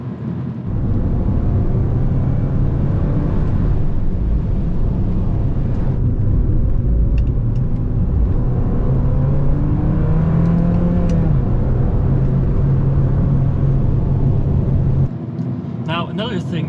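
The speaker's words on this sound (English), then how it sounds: "It has this very sporty, loud little four-cylinder noise, which is nice." An Abarth 595 Turismo's small four-cylinder engine drones loudly and steadily throughout, with rising revs and gear-change swells under the road roar, cutting off near the end.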